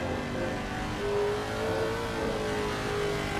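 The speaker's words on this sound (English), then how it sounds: "Revs have died completely." A GT race car engine in a sim racing game at Imola, heard near the pit lane and Tamburello, holding a steady high drone that swells and eases slightly, alone without talk.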